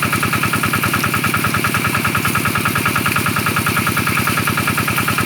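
A groundwater well pump engine runs steadily near Phichit, Thailand, its loud, even idle thumping in a fast rhythmic pulse with a mechanical rattle throughout, and no voices.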